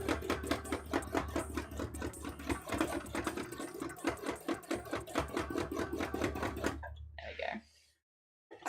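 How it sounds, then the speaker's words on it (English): An embroidery machine stitches densely over a painted area, a fast, steady mechanical chatter of needle strikes running close for about seven seconds before cutting off into near silence. "now we are just going over the place we just painted, but with like a lot of stitching"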